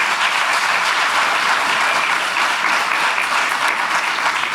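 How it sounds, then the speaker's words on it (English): A large keynote audience at a small business expo at Malcolm X College applauds loudly and steadily, a dense wash of clapping that holds at full strength without pause. "that's worth clapping for"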